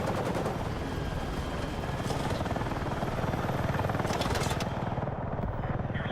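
Attack helicopter in the video game Battlefield 6, a loud, steady rotor thump and engine drone close by, with rapid gunfire blended in and a brief burst near the end.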